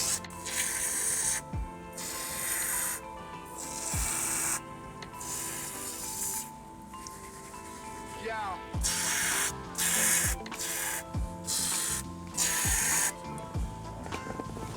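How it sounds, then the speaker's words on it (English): A hand-pump trigger sprayer of carpet stain remover is squeezed over and over, each pull giving a short sharp spritz with a plastic click, in irregular bursts close by. "once you spray all the affected area"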